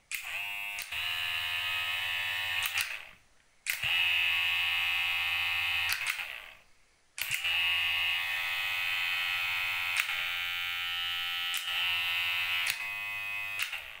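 A Kemei KM 1996 electric hair clipper buzzes in three bursts with short silent gaps between them, a loud steady whining hum that is close and alone.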